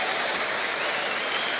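A church congregation applauds during a Brazilian evangelical sermon, a soft, even wash of many hands clapping at a distance, steady and unbroken throughout the short stretch with no voices over it.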